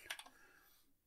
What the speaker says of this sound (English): I can just go into, you know, a terminal and type in vim.